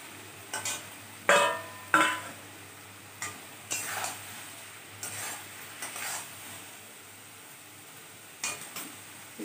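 Stirring and light scraping in a pan as mourala fish goes into a simmering potato curry, with irregular separate clinks and stirs over a faint low sizzle, close and fairly quiet.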